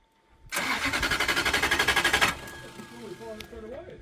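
A Toyota 1UZ V8 swapped into a turbo Mazda RX7 cranks with a rapid, rhythmic starter chatter for about two seconds, then catches and settles into a loud, steady idle, with voices faintly heard afterward.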